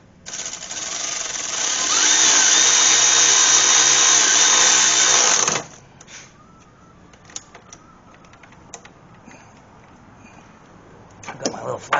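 Electric impact drill loosening a pulley bolt on a BMW Z3 with a 2.8-liter engine, a loud rattling hammering burst lasting about five seconds that cuts off sharply, followed by faint clicks and tool handling nearby.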